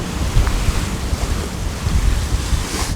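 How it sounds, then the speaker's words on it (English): Strong gusts of wind roar across the microphone aboard a sailboat in Icelandic waters, with waves washing against the hull in a steady, rough, close wash of noise lasting a few seconds and no talk. "26, 27 knots of wind now in the gusts"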